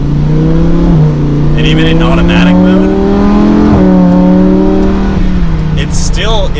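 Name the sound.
Lamborghini Huracan engine revving under acceleration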